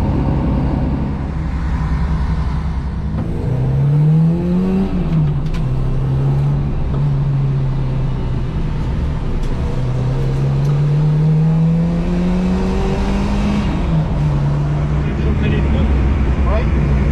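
Race car with a 2-litre 16-valve engine, fitted with larger injectors and a bigger camshaft, revving and accelerating at a paddock, its rising and falling engine note surging in several climbs and drops, with people talking over it.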